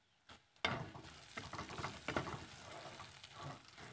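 Kakrol stuffing made with ground kakrol seeds is stirred slowly in a pan on a stovetop, giving a steady soft scraping with a light sizzle throughout, close and alone with no voices.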